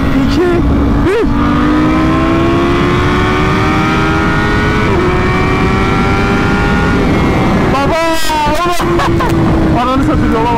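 A 2017 Honda CBR1000RR SP sport bike revs hard at night, its engine whine climbing and holding a steady pitch close by, with quick rising shifts near the end and the rider talking over it.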